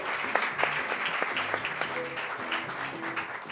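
Studio audience applause on a late-night talk show, moderate and steady with individual claps standing out, while voices and a few tonal sounds carry underneath.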